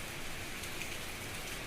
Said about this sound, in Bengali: বাইরে কি বৃষ্টি হচ্ছে?